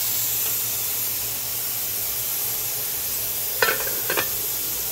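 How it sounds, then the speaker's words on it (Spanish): Steam and pressure hiss steadily from a pot of cooking yellow Spanish rice, a constant broad rush with a couple of brief sharper spurts near the end, no talking. "There's all that smoke and pressure coming out of there."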